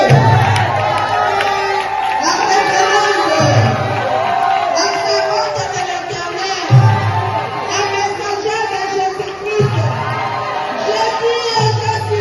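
A congregation at a Sunday worship service in Abidjan, Côte d'Ivoire, cheers and shouts loudly in a continuous roar of whoops and acclamations. Bursts of voices rise and fall over music-like rhythmic pulses throughout.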